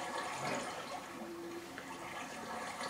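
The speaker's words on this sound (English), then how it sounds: "You filled the inside of my house up with water" Water rushes and floods into a house in a video game, a continuous dense hiss of pouring liquid with faint drips, steady and fairly close, no voices.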